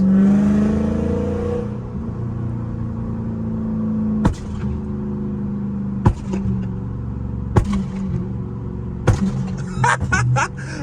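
Car engine revved by pressing the gas pedal, a steady close engine tone with a strong rise at the start, broken by several sharp loud bangs that repeat every couple of seconds.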